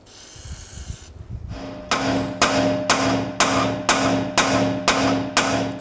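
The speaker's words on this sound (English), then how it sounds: "I'm just going to use a punch and a hammer and tap it down" A hammer strikes a punch against a strut on a 2004-10 BMW X3, eight evenly spaced sharp metallic taps ringing close and loud after a short stretch of quieter shuffling.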